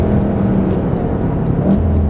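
A VW Golf 4Motion with all-wheel drive races on the wet Sepang Circuit. Its engine holds a loud, steady drone with a slight pulsing from inside the car, and no one speaks.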